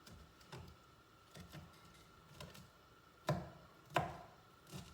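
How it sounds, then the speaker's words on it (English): Shrimp diced with a knife on a cutting board over the stove, a faint, irregular series of close chopping knocks, with two sharper louder strikes near the end over a steady background hum. "I'm dicing the shrimp"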